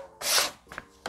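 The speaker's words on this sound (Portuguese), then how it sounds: "eu vou deitar um pouquinho mais a lâmina e raspar alguns pontos mais e outros menos." A steel blade scrapes across a painted wooden decorative frame made from a recycled window, giving rough rasping strokes: one long pass, a shorter one, then the start of another, close and fairly quiet.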